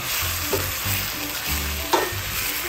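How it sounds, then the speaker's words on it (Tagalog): A spoon stirs chicken arroz caldo in a pot over a steady sizzle, with a couple of soft scraping clinks, close and continuous without talk. "Konting halo-halo lang to."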